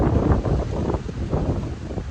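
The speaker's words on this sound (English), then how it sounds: "Apologies for the sound, it's quite windy" Steady, rough wind buffeting the microphone, a continuous low rumble with gusty swells and no other sounds.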